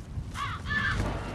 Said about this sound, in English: Fucking crow. Scared the shit off.